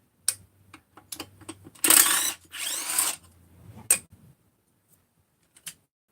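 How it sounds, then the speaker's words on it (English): A ratchet wrench works loose the muffler bolts on an engine being torn down, with two bursts of rapid metallic clicking separated by a brief pause, plus scattered single knocks and taps, close and fairly loud without speech. "Let's undo the muffler bolts here."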